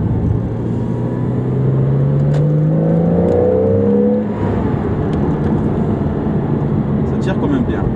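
Porsche Cayman S engine pulling hard under acceleration, a rising whirring engine note climbing through the revs before easing off, close and loud inside the car, with road rumble beneath.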